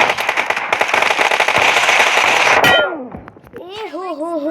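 Rapid bursts of gunfire from PUBG Mobile team deathmatch ring out loud and dense for over two seconds, then cut off as quieter tonal game effects and a voice take over.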